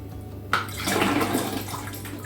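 Homemade birch kvass pours into a bottle filled almost to the brim, a sudden gush of liquid that runs steadily for about two seconds, close and fairly loud.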